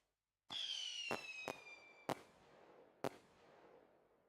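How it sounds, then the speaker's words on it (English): A fireworks sound effect plays in a livestream: a rising whistle bursts into crackling, followed by several sharp, separate bangs over a fading sizzle. "Let's see those fireworks."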